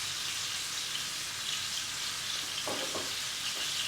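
Ahi tuna searing in a hot pan gives a steady, close frying hiss that runs throughout, with a few short pops and crackles near the end and no talking.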